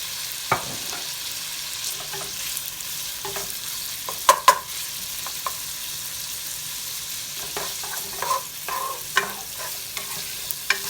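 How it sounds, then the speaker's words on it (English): Bacon frying in canola oil in a pot for charro beans, a steady close sizzle with scattered sharp pops and spatters throughout, no voices. "next we're going to add this bacon to the pot"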